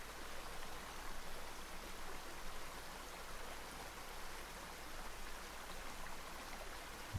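Steady roar of Imose Falls, a waterfall in a Japanese mountain setting, a broad unbroken rush of falling water that holds an even level throughout with no voices.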